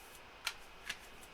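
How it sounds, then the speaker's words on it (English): A deck of oracle cards is shuffled in three soft, brief riffling snaps spaced roughly evenly apart, faint against a quiet room. "So I'm shuffling the cards."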